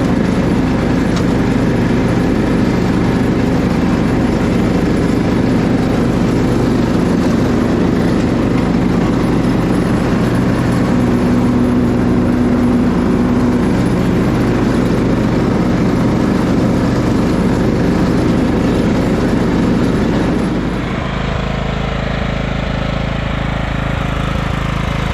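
Simplicity Regent lawn tractor engine running steadily during a ride, a loud continuous drone that shifts slightly lower near the end as the load changes.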